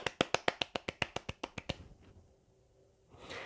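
Rapid rhythmic hand clapping at a celebratory Korean online broadcast, about fourteen sharp, loud claps in an even beat that then stop, leaving quiet room tone.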